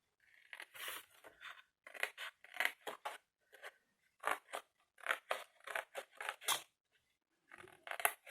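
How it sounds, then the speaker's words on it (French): Scissors snip through a small cardboard gluing tab on a handmade box, a run of close, crisp cuts in quick bursts with short pauses between, alone without talk. "Je coupe le petit onglet de collage."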